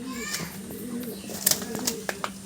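Pigeons brought from Andhra Pradesh coo with low, repeated, rolling calls inside a loft. Faint background voices and a few sharp clicks and flutters sound nearby.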